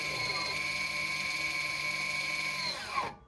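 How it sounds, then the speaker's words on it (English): A steady, whining electric motor hum from the electronic parking brake of a 2018 Chevy Equinox engaging runs for about three seconds, close and fairly quiet, then winds down and stops. "You should hear an extended sound of the parking brake engaging"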